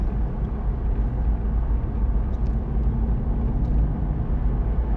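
A deep, steady V8 engine rumble from an Aston Martin V8 Vantage Roadster, low and full, holding a constant drone throughout without speech.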